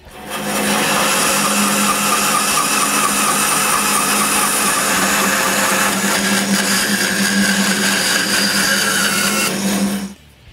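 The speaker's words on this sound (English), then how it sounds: "I cut it on the bandsaw" A bandsaw slices through a wooden base in a steady, loud, close whine with a rough buzzing edge, running continuously for about nine seconds before the motor drops away at the end.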